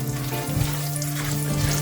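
Chana dal and cashews frying in hot oil during tempering for coconut dill rice, giving a steady close sizzle with a low hum running underneath for under two seconds.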